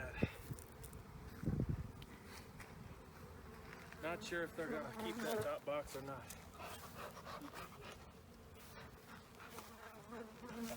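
Honey bees buzz steadily inside an opened spring hive box being fed syrup, a close, continuous drone running beneath a man's speech and occasional handling noises.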